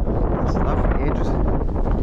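Strong wind buffets the microphone with a steady, loud roar throughout, broadband rumble dominating with no pauses.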